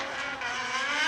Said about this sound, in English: It's a mental car. It just makes so much noise.